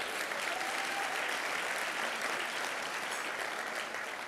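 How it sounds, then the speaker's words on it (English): Sustained applause from a large audience at a public address in Austin, Texas, an even, dense wash of clapping heard from a distance, continuous and steady with no talking over it. "How about a round of applause for Texas?"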